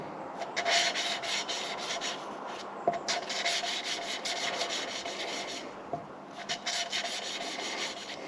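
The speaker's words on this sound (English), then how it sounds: "this method of lapping valves in dates back over 100" Engine valve lapped in by hand against its seat, producing close, continuous gritty rubbing in repeated back-and-forth strokes with a few light clicks, no talking.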